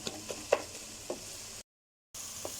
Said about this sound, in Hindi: ये देखिए हमारा मसाला अच्छे से भून चुका है